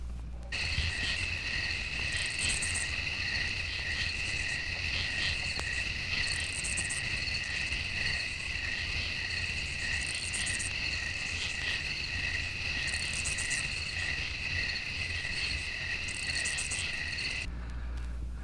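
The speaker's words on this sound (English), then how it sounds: "insect song is like a chant" Insects in a swampy area sing a dense, steady chorus of repeated high buzzing and chirping notes, with a faint low rumble underneath and no voices.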